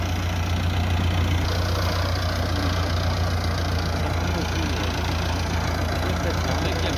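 A Massey Ferguson 385 tractor engine idles close by, a steady low throbbing rumble that runs unbroken through the whole stretch at constant loudness.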